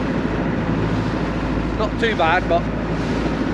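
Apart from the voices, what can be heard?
wind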